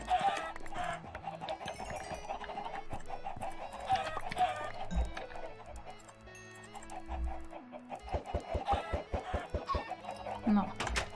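Minecraft chickens cluck repeatedly over a busy background of game music and effects, with a rooster-like call among the sharp, rhythmic clucks.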